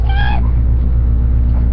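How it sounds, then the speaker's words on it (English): A pet cat gives a single clear, close meow at the start, followed by a low steady background hum with no speech. "He's a very, really good cat."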